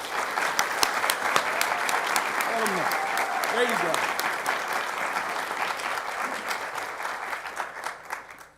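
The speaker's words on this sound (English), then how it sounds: "please give him a warm Georgia Peach round of applause for our Deputy Administrator" Warm round of applause from an event audience welcoming a deputy administrator, loud sustained clapping with sharp individual claps, a few brief spoken words and whoops on top, tapering off at the end.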